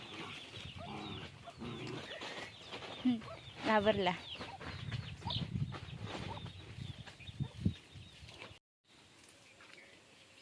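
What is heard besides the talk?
hens clucking inside a coop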